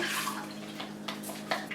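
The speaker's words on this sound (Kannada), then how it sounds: "ನೆನೆಸಿರೋ ಅಕ್ಕಿನ ಬಸ್ಬಿಟ್ಟು ನೀರು ತೆಗೆದ್ಬಿಟ್ಟು" Soaked rice being drained of its water, with a quiet, soft trickle and a few small splashes.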